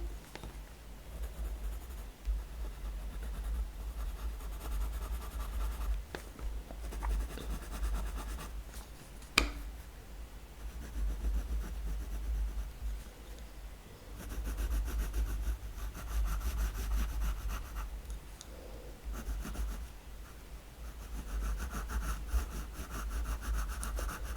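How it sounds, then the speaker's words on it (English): An HB graphite pencil shading on paper, a soft, continuous scratchy rubbing with repeated back-and-forth strokes, close and quiet, with a brief sharper tap partway through and no talking. "So this is my HB pencil"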